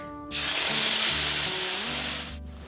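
Tomato, green chilli and ginger paste dropped into hot oil, already seasoned with whole cumin and dried red chillies, for a Bengali rohu fish curry: a sudden loud, close, steady sizzle that holds for about two seconds, then fades slightly.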